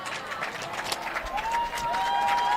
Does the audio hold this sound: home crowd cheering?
yes